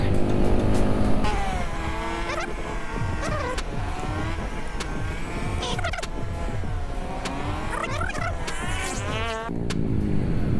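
A Honda CB150R motorcycle climbs a hill in third gear, its engine revving loud and close with rising and falling pitch through gear shifts, running continuously with no talk.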